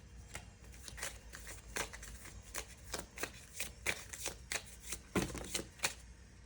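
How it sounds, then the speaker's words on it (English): Oracle cards being shuffled by hand, a steady run of soft riffling snaps and papery flicks, close and quiet, with no talking. "Okay, I'm going to pull one more Oracle card."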